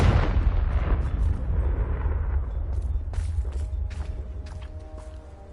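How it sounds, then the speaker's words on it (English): A Confringo blasting spell explodes in the video game Hogwarts Legacy, a loud boom that opens the clip and rumbles on as a long low tail, with scattered sharper cracks and debris later. "Confringo!"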